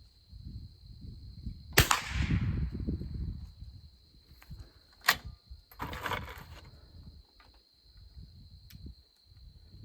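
A Soviet Toz 8M .22 LR bolt-action rifle fired at an outdoor range: one sharp, loud crack, followed by a few fainter clicks and knocks of handling, with insects buzzing steadily in the background.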